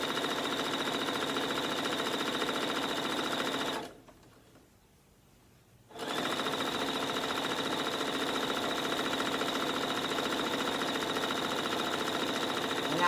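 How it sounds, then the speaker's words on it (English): Sewing machine chain piecing quilt patches one after another without breaking the thread, a continuous rapid mechanical whir that stops for about two seconds midway, then resumes steadily and close. "I'm not breaking the thread. I'm just sewing them just one after the other."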